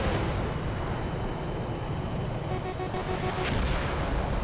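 Rapid cannon fire from an F-106 Delta Dart jet in the air-combat video game Metalstorm, a dense continuous loud rumble of gunfire and engine noise filling the whole stretch.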